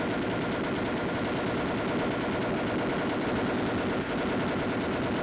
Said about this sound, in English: The M73 machine gun is a lightweight, air-cooled weapon